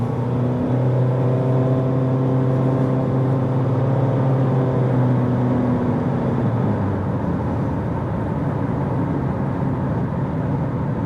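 A 2023 Honda HR-V EX-L with a CVT transmission driving on the road, heard from inside as a steady loud engine drone with tonal hum and road noise throughout, no talking.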